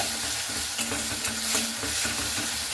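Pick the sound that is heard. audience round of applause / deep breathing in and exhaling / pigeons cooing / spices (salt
spices (salt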